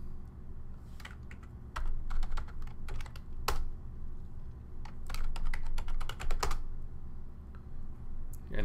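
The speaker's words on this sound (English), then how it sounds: "We put in the correct username." Computer keyboard keys clacking in irregular bursts as a username is typed, close and crisp, with short pauses between clusters of keystrokes over a low steady hum.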